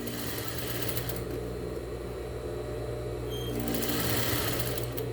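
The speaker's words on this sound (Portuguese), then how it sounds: "E vou costurando toda o meu tecido" A sewing machine stitches a tea towel with bias binding in one continuous, even mechanical hum close by, with a slight rise in pace toward the end and no talking.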